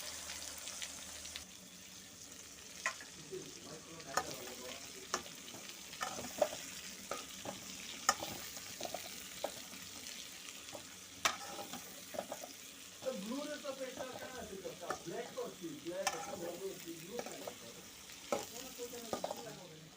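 Onion and garlic frying in a pan, a continuous soft sizzle under repeated stirring and scraping clicks, fairly quiet and close, with faint voices in the background.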